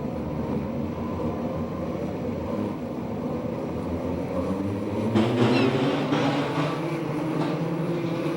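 USAC/CRA sprint cars roar away at the green flag, a dense, steady engine drone heard at a distance that swells louder partway through.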